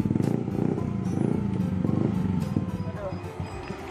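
A Vespa scooter engine runs on a dyno while being tuned for a race, a close, loud, rapid pulsing exhaust rumble with some clatter, as people talk over it.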